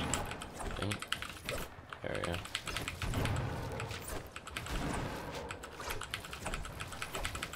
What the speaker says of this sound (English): How's my keyboard sound from your guys' end?